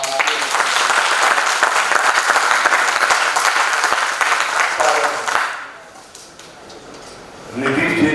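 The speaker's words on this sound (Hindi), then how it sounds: "आपका सहर्ष हम स्वागत, अभिनंदन अपने विभाग की तरफ से तालियों की गड़गड़ाहट के साथ।" Thunderous applause from an audience welcoming a guest at a university folk-art and theatre event fills the first five seconds, dense and loud, then fades to a quieter murmur before a short burst of clapping returns at the end.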